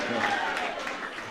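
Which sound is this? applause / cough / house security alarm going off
applause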